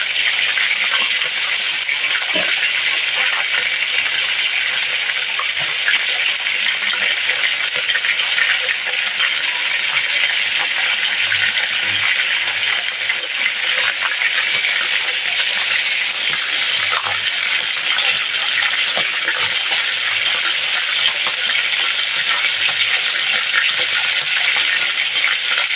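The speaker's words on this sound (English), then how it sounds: "So while this is frying" Oxtail sizzles in a frying pan as it cooks for a stew, producing a steady, dense crackle and hiss that runs unbroken and fairly loud throughout, with no talking.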